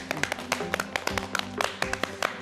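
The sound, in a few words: audience applause as the guest comes forward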